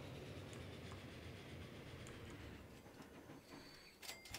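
Train rumbling along rails in the video game Transport Fever 2 on a Sweden map near Kalmar, a steady low rolling noise with faint clicks and a few sharp metallic ticks near the end, quiet overall.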